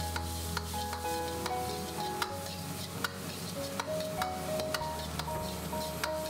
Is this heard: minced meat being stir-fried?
yes